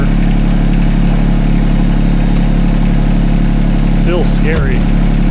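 A tractor engine idles loudly and steadily nearby at a roofing job site, a constant low rumble with a brief voice near the end.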